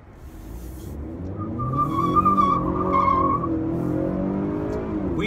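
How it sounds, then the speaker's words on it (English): A 2019 Honda Accord with a 2-liter turbo engine spins its wheels, the engine revving hard under a loud, sustained tire squeal that rises and then holds steady near the listener. "Wheel spins are no problem for this car."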